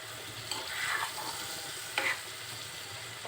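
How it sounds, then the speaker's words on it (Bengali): Ridge gourd frying in a pan is stirred with a spatula, giving a soft steady sizzle broken by two brief scraping strokes, close and quiet with no talking. "এখন এর সাথে নাড়াচাড়া করে নিব"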